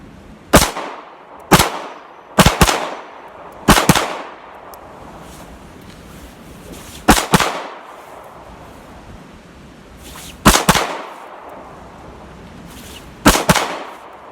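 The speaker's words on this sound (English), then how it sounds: "I like this gun too. Shoots good." Taurus G2C pistol shots fired outdoors, about nine sharp reports in irregular pairs and singles over fourteen seconds, loud and close with a brief echo after each, no talking.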